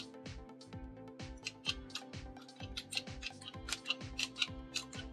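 Keys clack in a steady run of sharp, close taps on the keyboard of a CP400, a Brazilian clone of the CoCo 2 computer with worn, unreliable keys, with no talking.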